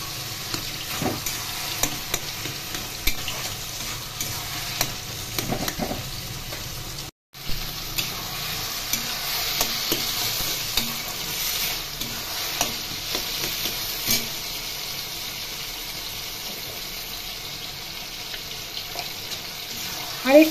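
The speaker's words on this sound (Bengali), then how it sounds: "এখন খুব ভালো করে নাড়তে হবে যতক্ষণ না সব কচুর শাক গলে না যায়।" Taro leaves frying in a pan with cumin, chili and ginger paste are stirred continuously, a soft sizzle under scraping spoon strokes, with a brief break partway and a sharp clink at the end.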